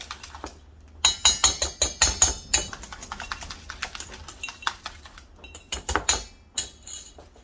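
Egg and lemon mixture is whisked in a bowl for Greek avgolemono soup. A whisk strikes the bowl in rapid clinking, uneven bursts, close and clear with no talk.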